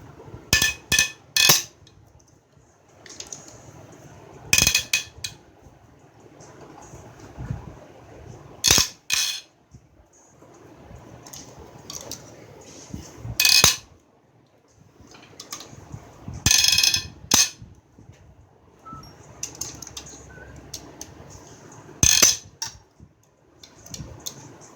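Removing cylinder head bolts from the engine of a 2008 Hyundai Santa Fe, with sharp metallic clanks and ratchet clicks in scattered bursts separated by quiet pauses.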